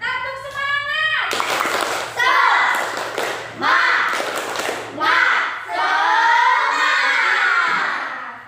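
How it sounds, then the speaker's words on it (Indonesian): A class of children repeats a rhythmic spirit clap, with loud grouped bursts of claps and thumps mixed with their shouted chanting, close and energetic. "Kurang semangatnya, tepuk semangat."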